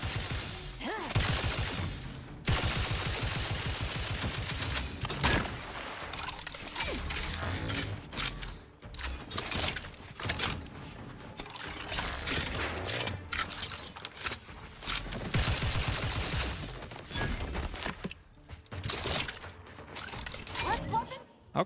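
Rapid automatic gunfire from a gun in The Outer Worlds 2: several bursts of fast, dense shots lasting a few seconds each, loud and close, separated by short gaps with clicky mechanical game sounds.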